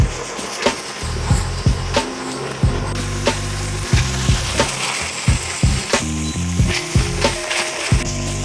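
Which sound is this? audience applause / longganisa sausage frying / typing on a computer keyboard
longganisa sausage frying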